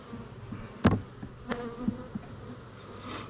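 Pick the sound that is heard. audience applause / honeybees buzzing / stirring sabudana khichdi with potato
honeybees buzzing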